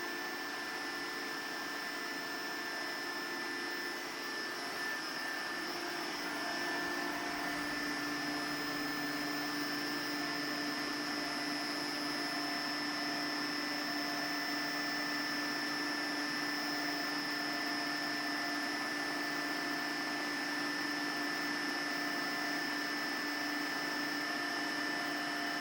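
An Orbitalum 165 CA dual orbital welding system with a 115 weldhead, used on stainless steel, runs as a steady machine hum with a fan-like whir and faint tonal whines, continuous and unchanging throughout.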